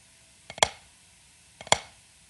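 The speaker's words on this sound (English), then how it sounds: "a drag is basically 2 notes followed by an accented note" Two drum drags ring out alone, each a quick pair of soft grace notes flamming into a sharp accented snare hit, about a second apart.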